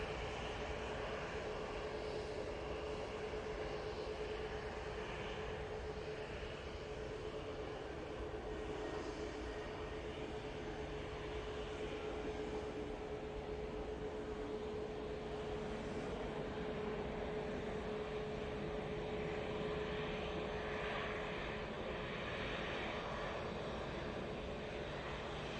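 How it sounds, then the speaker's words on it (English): A Gulf Air jet airliner goes around at Manchester Airport, its engines a faint, distant, continuous drone with a steady tonal hum running underneath throughout. "There's the Gulf Air doing the go around"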